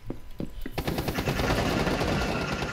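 Rapid automatic gunfire in Rainbow Six Siege: a few sharp separate shots, then a dense, loud, sustained burst of continuous fire.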